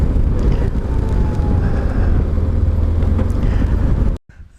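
Steady, blustery wind roaring and buffeting across the microphone, loud and continuous, cutting off abruptly near the end.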